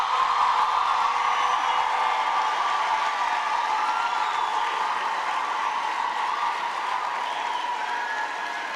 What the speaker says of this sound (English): let's give a final round of applause to our graduates of